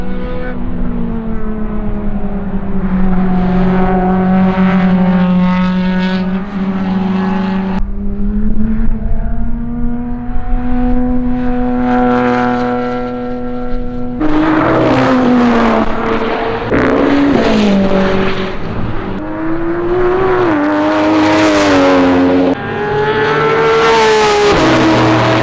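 Time attack race cars lapping a track at a Superlap Battle event, engines droning loudly with steady harmonic tones that rise and shift as they accelerate and pass, continuous and close throughout.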